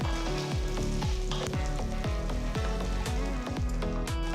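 Steady crackling sizzle of onion, garlic and chili sautéing in a hot pan, with a few soft stirring scrapes repeating underneath.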